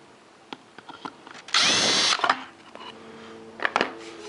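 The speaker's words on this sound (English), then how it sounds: "So now I've located the hole where I use my 1 3/8 drill bit to drill it." A power drill fitted with a 1 3/8 inch bit bores a hinge hole, a single loud, dense whirring burst of about half a second amid quieter knocks and handling clatter, with no talk.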